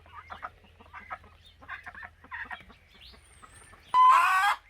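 Chickens clucking softly in short, choppy bursts nearby, then a sudden loud squawk breaks out at the end.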